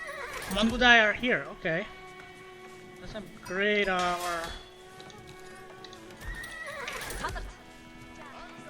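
Horses whinny and neigh several times in Age of Empires IV as Mongol Mangudai horse archers appear, the calls rising and falling in clear bursts over game music, with someone talking over part of it.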